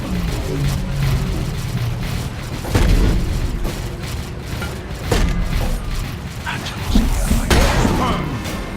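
A grenade goes off during a Dawn of War 3 battle. Loud booming bursts hit over a dense layer of game combat noise and mechanical clatter, with voices heard in the mix.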